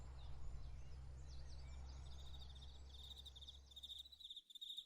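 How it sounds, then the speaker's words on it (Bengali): Crickets chirping at dusk just after a power cut, a steady faint high trill with a low hum underneath that cuts out near the end. "ঝিঝি পোকার ডাকটা তীব্র হয়ে উঠেছে।"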